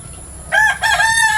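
A rooster crows once, loud and close, a drawn-out two-part call after a brief quiet, in a crowded backyard chicken-raising space.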